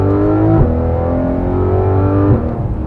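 A 2016 Porsche GT3 RS with a naturally aspirated flat-six pulls hard, its loud, close engine note rising steadily with brief dips at quick gear changes, heard alone without talk.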